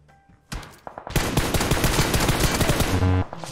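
Rapid bursts of automatic gunfire from PUBG Mobile, loud and dense with overlapping shots from more than one direction, ending abruptly after about three seconds.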